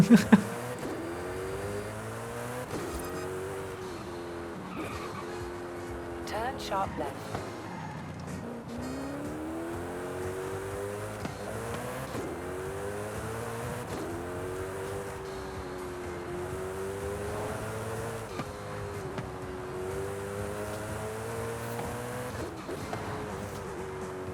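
A Koenigsegg Jesko in Forza Horizon 5 revs and accelerates through repeated gear shifts, its engine pitch climbing and dropping in a steady cycle, moderately loud with occasional tire noise.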